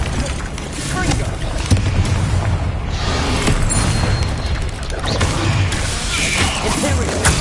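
The Confringo spell blast in Hogwarts Legacy, heavy booming explosions and crashing impacts that run continuously and loudly, dense and rumbling, with game voices mixed into the chaos.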